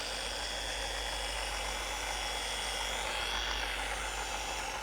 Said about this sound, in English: You want to make sure that your pressures are correct so this machine can keep spinning and actually breaking down the compound efficiently as well.